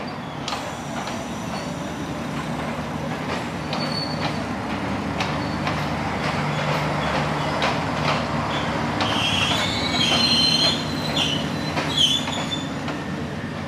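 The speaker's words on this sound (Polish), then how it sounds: "Stacja kolejowa i czekam na pociąg do Cusco." A train rolls into the railway station at Aguas Calientes, Peru, with a steady rumble, clanking wagons and intermittent high wheel squeals over several seconds.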